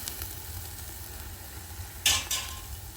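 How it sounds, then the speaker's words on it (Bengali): Capsicum and paneer frying in a pan, a quiet steady sizzle with a couple of brief utensil scrapes and clinks near the end. "কষিয়ে রান্না করতে হবে"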